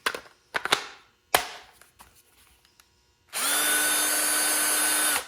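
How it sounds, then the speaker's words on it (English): An original first-generation Ryobi cordless power drill spins up after a few scattered knocks and taps, then runs steadily and loudly with a high whine for about two seconds, close by with no voices. "I've got my original Ryobi that came with the very first set when they first came out"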